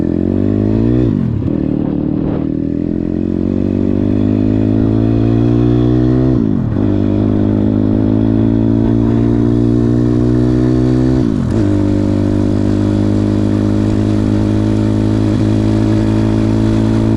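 A Zongshen 180 motorcycle engine runs at a deliberately high idle while warming up, a loud, close, steady mechanical drone with a few brief dips and surges in speed.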